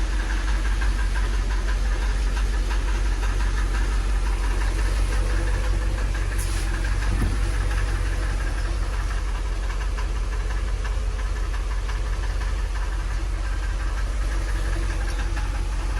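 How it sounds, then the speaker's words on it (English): A 2006 Mercedes CLS 500 idling, a steady low rumble with a fine rapid ticking pulse running through it, close and constant for the whole stretch, with no one talking. "You let this thing idle for a little bit"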